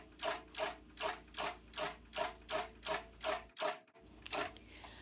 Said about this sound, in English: now I'm stitching down right on the very edge of the top of the quilt